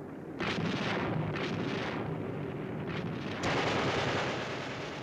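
Heavy gunfire and explosive booms rumble through a WWII battle scene in a 1962 TV drama, with dense low blasts and bursts layered over a constant roaring background. There is no talk.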